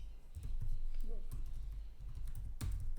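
Keys on a computer keyboard clack in quick irregular taps, close and clear, while someone talks over them.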